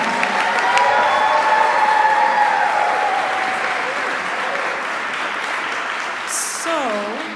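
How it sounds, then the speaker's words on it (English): Audience applause at a live university choral concert, honoring award-winning singers; steady, dense clapping fills the hall for several seconds, with scattered voices and a brief chatty burst near the end. "Yes, applaud for them now."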